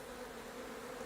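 Bees buzz steadily around a top-bar hive comb in a cottage garden, a continuous close drone with no talking.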